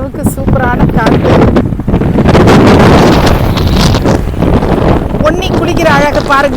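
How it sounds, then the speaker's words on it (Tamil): Strong outdoor wind buffeting the microphone beside the Thamirabarani River, loud gusty rumble with rustling, while someone talks over it and a faint higher call comes through near the end. "சலன்னு காற்று அப்படியே உடம்பே தள்ளுது"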